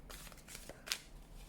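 A card drawn from an archetype oracle deck, a few soft quick papery slides and one brief crisp snap, faint and close.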